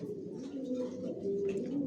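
Imported racing pigeons coo softly and steadily inside a loft, a low continuous murmur with faint background activity.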